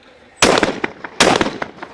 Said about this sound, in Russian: Еще в осколок попробовал выстрелить